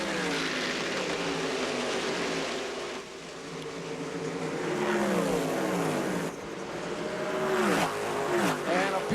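A pack of IRL Infiniti Pro Series open-wheel race cars roars past at the green-flag start at Nashville Superspeedway, engines rising and falling in loud Doppler sweeps as they pass, with a commentator talking over the noise.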